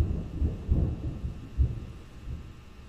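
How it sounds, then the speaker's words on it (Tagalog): Loud thunder rumbles in low, heavy waves, rolling in several swells over about three seconds with nothing else around it. "Lakas ng kulog."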